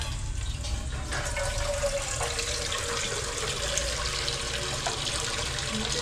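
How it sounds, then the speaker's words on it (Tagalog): Water runs steadily from a tap in a continuous broadband splash, close by and fairly loud, with no voices over it. "Buksan ko yung tubig"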